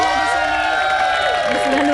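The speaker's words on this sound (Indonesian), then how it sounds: "saya minta tepuk tangan yang meriah untuk kita semua di sini" Studio audience at a TV quiz show clapping and cheering in a dense, continuous burst with excited shouts, loud and close throughout.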